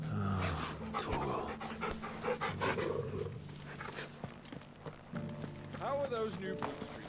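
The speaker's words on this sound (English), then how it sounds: "Pet a dog." Dog panting in the video game Final Fantasy XVI as the character pets it, steady breathy panting under game music and effects, with a voice talking over parts of it.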